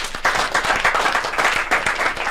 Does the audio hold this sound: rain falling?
no